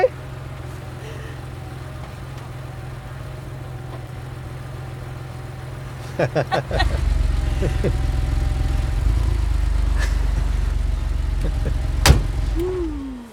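1989 Porsche 911 G50 engine while driving: a low, steady engine rumble with a few clunks, deepening and growing louder partway through, with a sharp knock near the end.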